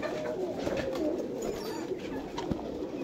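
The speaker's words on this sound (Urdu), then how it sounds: "بہت کمال کا کبوتر ہے بھائی جی" Several pigeons coo in a low, steady murmur at a Jhelum pigeon market, the soft calls overlapping continuously with a brief thump near the end.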